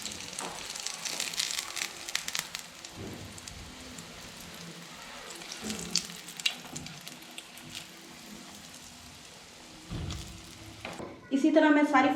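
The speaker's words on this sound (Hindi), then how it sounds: "शैलो फ्राई हो रही है।" Potato tikkis shallow frying in a little oil give a steady, soft sizzle with light crackle throughout, with a few louder clattering bursts near the end.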